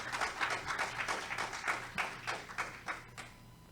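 Church congregation applauding during a sermon, quiet rhythmic clapping heard faintly from a distance in short pulsing bursts that fade toward the end.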